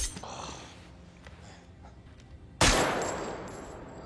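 A single sharp gunshot from a film scene, a sudden loud crack about halfway through followed by a lingering ringing tail, after quieter muffled action sounds.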